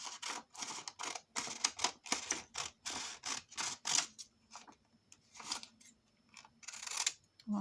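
Scissors cut paper for a handmade autumn album, a rapid run of crisp snips in quick bursts with short pauses between them, close by and fairly loud, with no talking.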